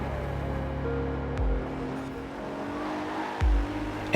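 Race car driving a lap of the Derwent Lakeside track in the Forza Horizon 4 video game: a steady engine drone held throughout, with two brief low thumps where the car brakes and shifts, no voices.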